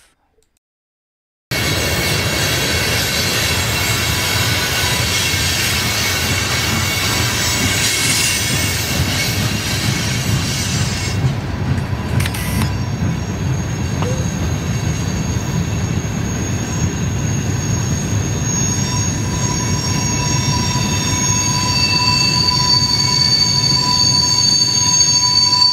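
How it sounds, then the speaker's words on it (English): A locomotive train runs in a loud, continuous rumble with rattling wheels and high metallic squeals, steady and close after a brief silent start. "Locomotive."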